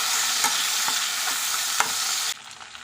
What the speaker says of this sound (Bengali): পেঁয়াজগুলো হালকা ভেজে নেব।